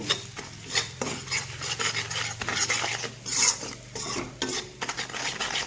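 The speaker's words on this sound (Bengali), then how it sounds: "মশলাটাকে কষিয়ে নেব" A spice masala of chili, coriander and cumin powder with salt and turmeric is stirred in a pan, with close, uneven scraping and clinking of a spoon over a soft sizzle and no talk.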